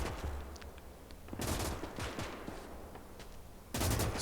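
Bursts of gunfire in the WWII strategy game Gates of Hell during a Finland campaign battle, with a loud volley near the start and another sharp burst at the end, separated by scattered distant shots and battle noise.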